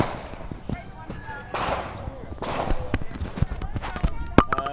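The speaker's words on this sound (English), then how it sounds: "These seem to be gunshots." Gunfire from a drive-by shooting at the George Floyd Memorial, heard as a scattered series of sharp cracks of varying loudness over crowd noise and voices, with one louder shot near the end.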